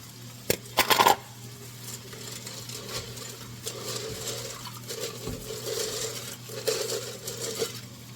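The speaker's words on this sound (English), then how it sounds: "So I have some rotini pasta. I'm about to put this in there." Dry rotini pasta is poured into a cooking pot on the stove: a quick rattling burst of pieces hitting the pot, followed by a soft, steady watery patter and bubbling.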